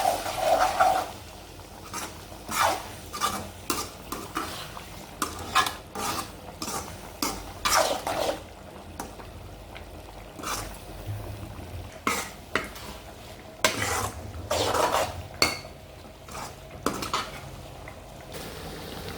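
Capsicum and egg fry in a pan while a utensil stirs them, giving irregular clinks and scrapes of metal against the pan over a soft, steady sizzle. The sounds are close, with no talk.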